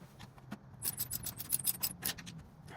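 Bolts being tightened on a gutter machine being switched from 5-inch to 6-inch gutter, heard as a series of close, quiet metallic rasps and scrapes with bright ticks, irregular and fairly soft.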